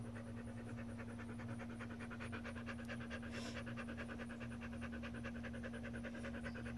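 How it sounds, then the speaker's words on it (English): A dog pants rapidly and steadily close by on a hot day outdoors, a continuous rhythmic huffing over a low electrical hum. "So if I'm ever filming outside and you hear this, it is Miss Choo Choo"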